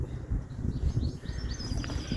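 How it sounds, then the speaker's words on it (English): Outdoors at night near a graveyard, faint high bird chirps and calls come through over a gusty, rumbling wind. "Among all the birds."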